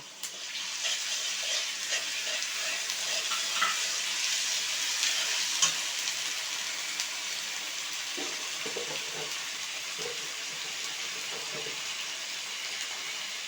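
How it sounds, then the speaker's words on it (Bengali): Ground spice paste goes into a pan of onions frying in oil while cooking a silver carp curry, giving a steady, close sizzle with light stirring scrapes throughout and no talking. "এখন আমি এই যে বাটা মশলাটা দিয়ে দিচ্ছি"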